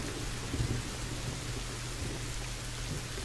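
Heavy rain pours around a castle in the video game A Plague Tale: Innocence, a dense steady hiss with low thunder rumbling underneath, swelling briefly near the start.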